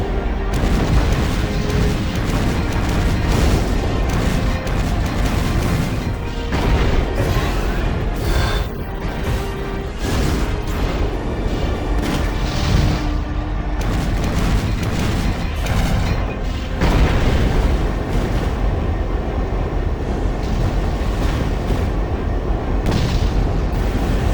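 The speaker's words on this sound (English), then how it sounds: "You'll be entering the fortress's fixed cannon firing range shortly. Keep an eye out for cannon fire." Fixed fortress cannons boom repeatedly in the video game Armored Core 4, deep, heavy blasts rolling over a constant loud roar of battle with no pauses.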